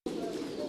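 Pigeons at a pigeon breeding farm give a steady, close, continuous cooing murmur that fills the whole short moment.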